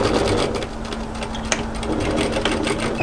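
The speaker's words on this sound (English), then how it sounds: "just pull the strap out of the way and stitch down until you finish right on that fold" A sewing machine stitches an apron strap down to a fold in a quick, continuous mechanical rattle with steady rhythmic needle strikes and one sharper click partway through.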